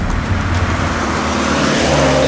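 A big truck hauling heavy equipment rumbles past on an icy Arctic highway, a broad, loud road roar heard from a moving vehicle, with no talk.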